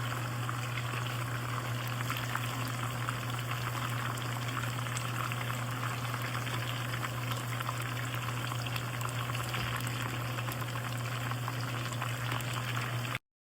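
Chicken frying in oil in a small pan gives a steady, dense crackle and bubble that stays even from start to finish, with a low constant hum underneath and no voices.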